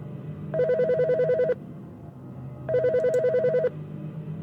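A phone rings in two electronic bursts in the video game Bad Summer, each about a second long, separated by a pause, over a low background hum.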